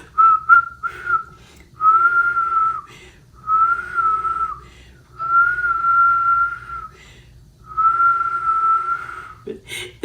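A person whistles a bright, steady tune in five sustained phrases separated by short pauses. The sound is close and clear, with no talking.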